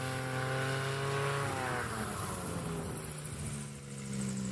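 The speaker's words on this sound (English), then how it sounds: "Love the sound of his aircraft." A small STOL aircraft engine droning steadily at a distance at a STOL competition, its pitch shifting slightly as it passes.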